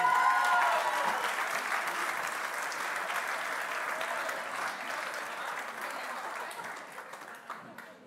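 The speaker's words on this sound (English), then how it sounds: "Big round of applause, please" Crowd at the Sharelle McMahon Medal 2023 netball awards applauds Kira Austin and Liv Lewis, a broad wash of clapping that starts strong and gradually thins and fades toward the end.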